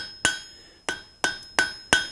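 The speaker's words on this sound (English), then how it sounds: "Here again, we see very light blows" Light hammer blows on forge rods while squaring them at a blacksmith's anvil, five sharp ringing metallic strikes at a steady, slightly uneven pace, close and clear with no talking.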